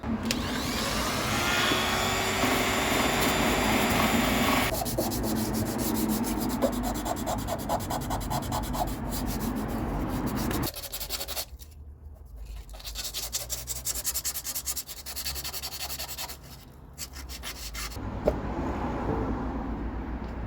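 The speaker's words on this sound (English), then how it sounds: "Let's give it a blast with the finger sander." A finger file sander grinds fiberglass filler on a barn-find classic Vauxhall, a loud continuous abrasive buzz that runs in long passes, briefly stops, then resumes in shorter bursts, with no talking.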